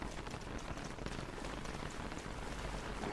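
Rain in the video game Don't Starve falls as a steady, soft patter that stays even and fairly quiet from start to finish, with no voices over it.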